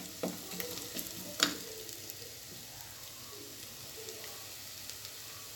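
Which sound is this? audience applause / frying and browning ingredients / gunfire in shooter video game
frying and browning ingredients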